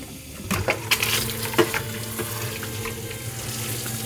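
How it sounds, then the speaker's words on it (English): Fresh water running from a hose through a pump into a full bucket while flushing a tankless water heater, a steady close splashing flow with a few louder sloshes and clinks early on. "You can see I've got a nice, strong, steady stream of fresh water coming through the hose and through the pump."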